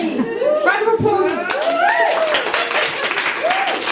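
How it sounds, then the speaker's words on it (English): Party guests clap and cheer in a lively round of applause, mixed with overlapping excited voices, children's chatter and laughter close by. "Round of applause."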